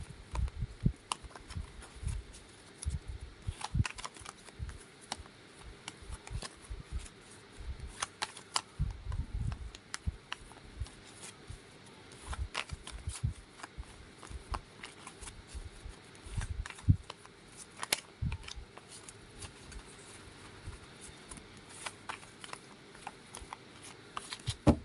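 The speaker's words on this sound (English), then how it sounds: "think of what you wanted to know while I shuffle the cards" Tarot cards being shuffled by hand, a soft papery riffling and patter of card edges that comes in irregular bursts, close and fairly quiet, with no talking over it.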